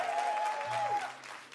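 Studio audience at a Ukrainian comedy show applauding to vote for option B, a horror film, in a brief burst of steady crowd clapping with a faint tone and low hum running beneath.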